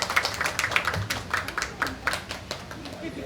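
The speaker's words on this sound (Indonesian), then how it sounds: "tepuk tangan semuanya" Scattered claps from a small audience at an agricultural business talk show event, thin and uneven rather than a full ovation, with a voice talking over them.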